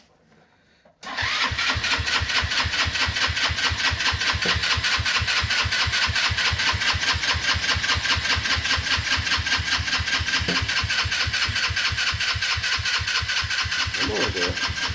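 A go-kart engine cold-starts after a second of quiet, then settles into a loud, steady, rapidly pulsing idle that runs evenly to the end.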